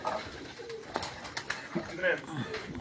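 A Chiriyon Wali breed pigeon, a female, coos on a rooftop in Punjab, giving soft repeated coos among faint chirps while people talk nearby.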